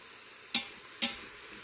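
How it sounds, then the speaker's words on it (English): Sliced mushrooms for risotto being chopped with a spatula inside an Instant Pot: two sharp, close knocks against the pot about half a second apart, over a low steady background. "I'm just kind of chopping these up with my spatula a little bit"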